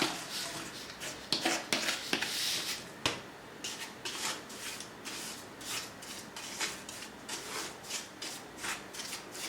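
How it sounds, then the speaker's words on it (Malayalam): About two cups of salt poured into a pressure cooker heating on the stove, a granular rasping pour with short rustling bursts and scrapes that continue steadily at close range, with no talking. "കുക്കർ അടുപ്പത്ത് വെച്ച് ചൂടാകുമ്പോഴേക്ക് ഏകദേശം 2 കപ്പ് ഉപ്പ് ഇതിലേക്ക് ചേർത്ത് കൊടുക്കാം."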